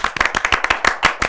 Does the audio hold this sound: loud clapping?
yes